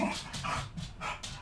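A dog barks and whimpers in short repeated bursts, fairly close and at moderate volume, with an anxious, whining tone in the calls.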